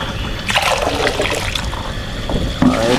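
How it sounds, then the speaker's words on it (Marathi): Water trickles and splashes as it drains through a net holding tiny shrimp, a close, continuous watery rush that briefly swells near the end. "याला ना ह्या जाळीमधून पाणी निघेल आणि एकदम फ्रेश होईल"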